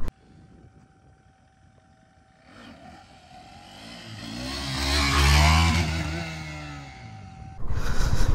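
A KTM Duke 390 motorcycle engine revs during a wheelie in first gear, climbing from a low idle to a loud, rising roar that peaks and eases, then a sharp burst of noise at the end.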